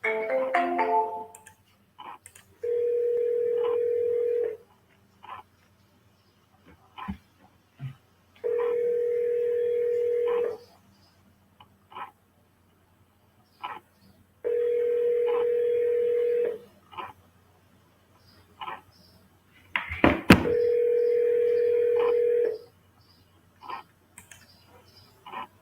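An outgoing telephone call: a short burst of dial tones, then four evenly spaced ringback tones, each about two seconds long with roughly four-second gaps, with faint clicks and handling noise between rings and no talk.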